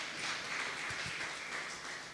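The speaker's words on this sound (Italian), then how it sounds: "E facciamo un applauso al Signore." Congregation applauding during a church service, a soft, diffuse bed of clapping heard at a distance that stays even throughout.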